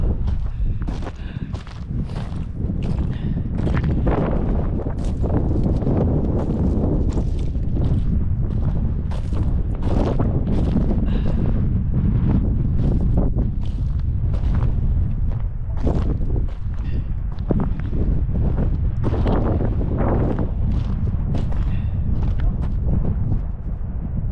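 Strong wind gusts buffet the microphone on a snowy winter hiking trail in Riding Mountain National Park, a continuous loud roar with repeated bursts and rumbles all through the clip, with no clear speech.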